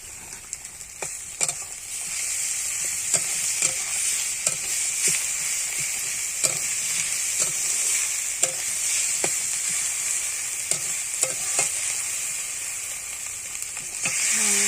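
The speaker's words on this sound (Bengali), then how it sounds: "রসুন বাটা দিয়ে দিলাম দিয়ে ভালো করে কষে নেব মশলাটা" Spice masala with garlic paste stirred and fried for a country chicken curry, steady hissing sizzle with regular scraping spatula strokes throughout, close and continuous with no talking.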